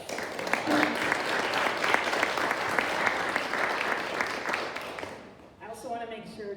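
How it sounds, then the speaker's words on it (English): An audience at a community breakfast event on food security gives a sustained round of applause, a dense wash of many hands clapping for about five seconds before it fades into a voice speaking. "Let's give them a big round of applause."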